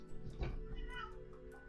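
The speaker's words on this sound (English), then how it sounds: "that's my cat again complaining at me" A pet cat meows a short complaint close by, one brief cry in a quiet room with a faint steady hum underneath.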